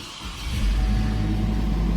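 A 2010 GMC Canyon's engine cranks and catches, rising from a brief starter whir into a loud, steady idle rumble close by.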